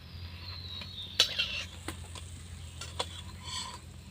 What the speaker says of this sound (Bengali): জিলাপিটিকে আমি সুন্দরভাবে ভেজে নিয়েছি এবার আমি উঠিয়ে নিচ্ছি ছাকনার সাহায্যে